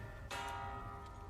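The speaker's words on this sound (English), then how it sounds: "A giant bell." A giant bell in the video game Ratchet & Clank: Rift Apart strikes once with a loud, bright clang, its harmonics ringing on steadily and sustaining through the rest of the moment over a low background rumble.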